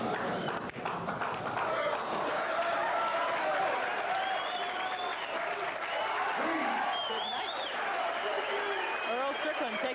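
A crowd applauds at the 1983 Caesars Tahoe Billiards Classic pool match between Earl Strickland and Steve Mizerak, sustained clapping filling the hall while a commentator talks over it.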